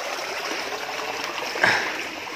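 Creek water flowing near an intake, a soft steady rushing trickle with a brief louder splash near the end.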